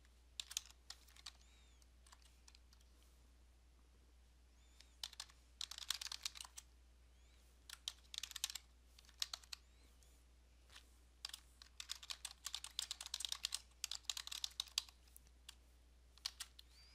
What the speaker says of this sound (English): So I'll go ahead and type in message.